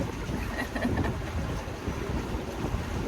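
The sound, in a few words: blustery wind on a boat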